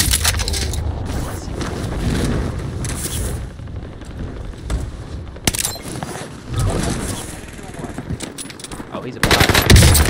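Automatic gunfire from a Warzone match on Fortune's Keep rattles in repeated bursts, loud and near, with sharp booms near the end and game ambience filling the gaps.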